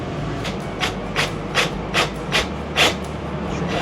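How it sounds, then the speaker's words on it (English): A drill grinds into a countertop in an RV in a steady run of rhythmic, rasping bursts, evenly spaced and fairly close. "Now I have to drill into this countertop"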